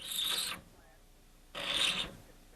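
A metal file rasps across a fishing hook to flatten the bend while tying a tarpon shrimp fly: two short, close scraping strokes with a quiet pause between them.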